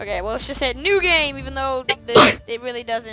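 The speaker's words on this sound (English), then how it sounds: "Oh, that's a sneeze." A single sharp sneeze bursts out amid casual conversation, with people talking before and after it.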